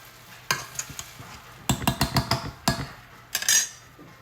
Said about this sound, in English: the rice is dry. Give it a little mix like this.